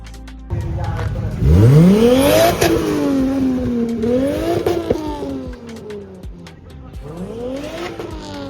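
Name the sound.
car accelerating on track at Castle Combe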